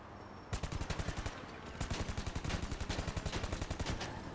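Rapid automatic gunfire bursts from GTA 5 Online, two sustained strings of evenly spaced shots separated by a short pause, loud and sharp with no voices.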